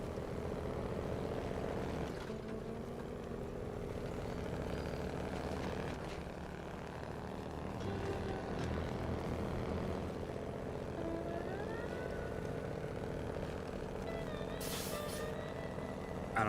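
A heavy truck engine from the SnowRunner game drones steadily throughout, a loud low rumble with shifting load and a brief high hiss near the end, with no talk over it.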